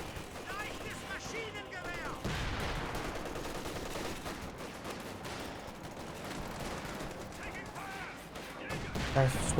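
Frag grenade blasts and rapid gunfire from Shun Pioneers in Age of Empires IV, a dense continuous barrage of shots and explosions with a voice talking over it.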